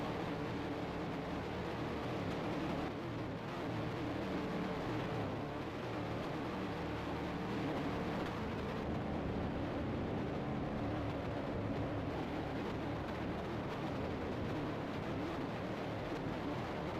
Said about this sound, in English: Really hear that Dodge engine scream